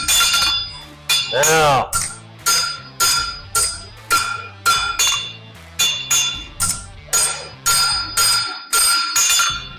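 Hammer blows ring out on an anvil while a railroad spike is forged into a knife, a steady rhythm of about a dozen loud, bell-like metallic strikes, with a single brief spoken word among them.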